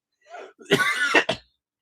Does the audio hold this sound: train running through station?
no